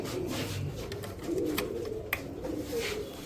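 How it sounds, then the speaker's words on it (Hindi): Madrasi pigeons in a lot of ten birds coo softly and repeatedly, low throaty calls layered at close range over faint background noise, with a sharp click near the end. "ये लो दोस्तों 10 कबूतर का लोट है, 10 के 10 सुपर स्टार कबूतर लेके आऊँ आप भाई के लिए"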